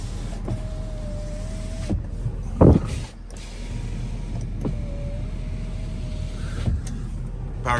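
Power windows on a 2017 Ford F350 Super Duty Platinum pickup run twice, each a steady electric motor whine lasting about a second and a half and ending in a clunk, with a short rattling bump between the two runs.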